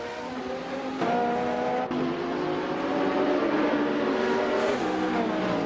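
Race cars roar through a video game race, with a 2003 Ferrari 360 out in front: a continuous engine drone with shifting pitch, gear changes and steady revving, no voices.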